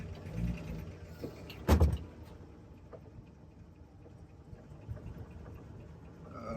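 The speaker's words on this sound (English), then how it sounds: "no throttle, just running off the idle setting" A 1949 Willys Jeepster with a Chevy six-cylinder engine idles with no throttle, a low steady rumble under a single thump of a door or window early on.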